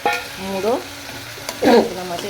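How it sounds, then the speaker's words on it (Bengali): A katla fish head fries in a pan with a soft sizzle and stirring, close by. Short tonal voice sounds rise over it twice. "আমি এর মধ্যে মাছের মাথাটা দিয়ে কষবো, কাতলা মাছের"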